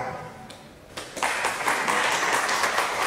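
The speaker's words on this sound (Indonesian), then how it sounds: "Tepuk tangan." An audience at a political seminar breaks into applause after a call to clap, a dense wash of clapping that starts abruptly after a quieter moment and stays steady and fairly close to the end.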